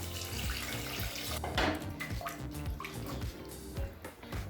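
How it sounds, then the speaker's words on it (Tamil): Two cups of water poured into a pressure cooker while making egg biryani: a steady, close rushing splash with faint clinks of the pot, no talking. "அடுத்து 2 கப் தண்ணி சேர்த்துக்கலாம்."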